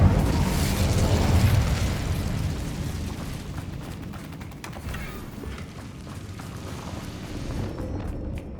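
An Incendio fire spell is cast during combat in Hogwarts Legacy, producing a sustained roaring, crackling fiery rush that stays loud and dense throughout.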